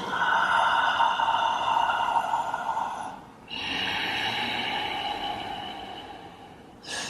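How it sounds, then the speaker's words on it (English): Yoga breathing, inhaling through open lips and exhaling through sealed lips, heard as two long, close, hissing breaths with a brief pause between them and a fresh breath starting at the end. "you inhale with open lips, exhale through sealed lips"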